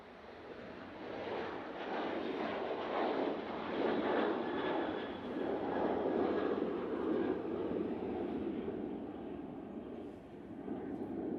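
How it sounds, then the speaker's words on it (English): A Ryanair Boeing 737-800 departs Manchester Airport, its jet engines building into a steady, broad roar that swells and holds at a distance before easing slightly toward the end, with no voices. "have this Ryanair about to depart. 737-800 and off to Rius."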